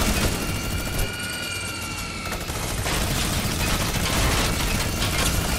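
An aircraft roars under heavy gunfire in a Fortnite match, a dense continuous engine drone packed with rapid shots and rattling bursts, loud and close from start to finish.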